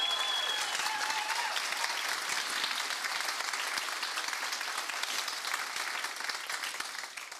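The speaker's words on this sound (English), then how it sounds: "So let's give Diane Lance a round of applause." A crowd at a Family Safety Center ribbon cutting in Nashville applauds Diane Lance, dense sustained clapping that stays even and full for over seven seconds before easing off at the end.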